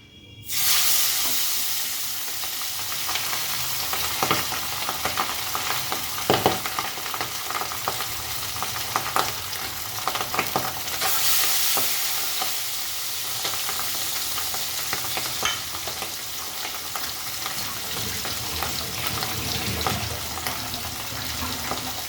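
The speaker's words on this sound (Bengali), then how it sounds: "কড়াইয়ে তেল গরম হয়ে গেছে, কড়াইতে দিয়ে দেবো মাছ।" Pabda fish dropped into hot oil in a wok, crackling and sizzling steadily and loudly, with occasional clatter and spatter bursts as the pieces are stirred and moved.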